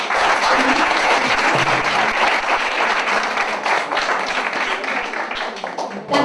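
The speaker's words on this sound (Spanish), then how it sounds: "Les pido un fuerte aplauso para ellos." Audience at a research forum breaks into loud, sustained applause, a thick crowd of clapping hands with crisp individual claps, tapering slightly toward the end with a faint voice underneath.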